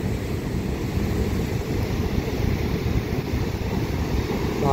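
Monsoon sea surf on the Konkan coast makes a continuous, heavy roar of breaking waves mixed with wind buffeting the microphone, steady and close, with no voices.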